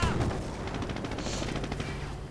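Gunfire crackles around tanks in a World War II strategy game, quick rapid bursts like machine-gun rattle forming a steady fairly faint barrage for a couple of seconds.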